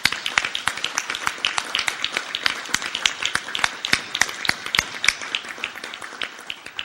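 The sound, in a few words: applause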